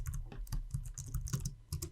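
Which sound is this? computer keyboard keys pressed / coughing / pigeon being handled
computer keyboard keys pressed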